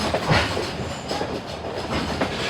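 A Strasburg Rail Road train rolls along the tracks near a Pennsylvania Railroad main line, with a steady close rumble and wheel noise, faint rhythmic clatter and a brief squeal throughout.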